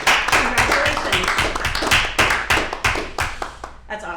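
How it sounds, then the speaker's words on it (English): Board members of a municipal airport authority give a round of applause: a small group's distinct, fairly close handclaps in an uneven rhythm, tapering off near the end. "I'd like to have our board give you a round of applause"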